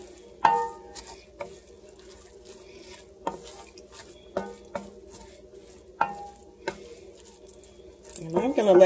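Onions, mushrooms and peppers are stirred in a soup pot, a series of separate scraping strokes and clinks at irregular intervals over a faint sizzle, close by, with a louder clatter at the end.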